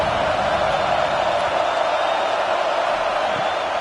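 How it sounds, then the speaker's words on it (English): A football stadium crowd at a United States Football League playoff game roars loudly and steadily on a third-down defensive stand, forming a dense, unbroken wall of noise. "Decibels rising as the crowd gets behind this defense on 3rd down."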